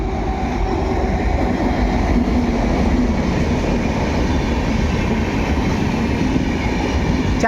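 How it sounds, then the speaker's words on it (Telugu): The Venkatadri Express rolls steadily along the rails of an Indian Railway line in a loud, continuous rumble with a faint rhythmic clatter of wheels, heard close and unbroken. "వెంకటాద్రి ఎక్స్ప్రెస్ అంటే మనకి ఇప్పుడు వెళ్తున్నది ఇది"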